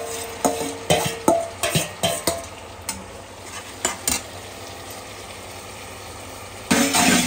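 Ginger-garlic paste fries in a pan for a Telangana gongura chicken pickle, with a spoon scraping and clacking against the pan in a quick rhythmic series of strokes over a soft sizzle, close by.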